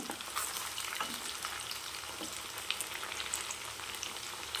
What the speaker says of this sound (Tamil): பாருங்கள், இப்போ இப்படி பரட்டி விடுங்க.